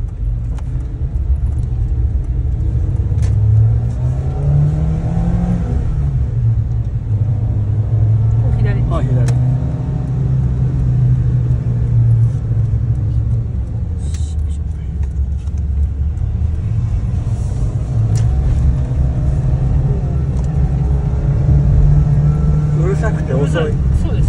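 A Mitsubishi Pajero Mini's small engine hums and rumbles steadily from inside the cabin as the car drives off after a U-turn, its low drone rising and falling in pitch while people talk over it.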